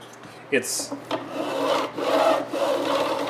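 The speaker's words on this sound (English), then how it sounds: "frets make a certain sound when I run the file along them" A metal file rasps back and forth across guitar frets in short scraping strokes, beveling them, close up, with a sharp click near the start.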